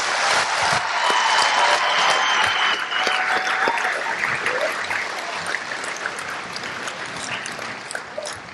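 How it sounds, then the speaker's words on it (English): Steady, sustained applause from an audience at a military coin ceremony for Airmen and Guardians, honoring the military training instructors; dense clapping holds for several seconds and tapers slightly toward the end. "How about a round of applause for our military training instructors?"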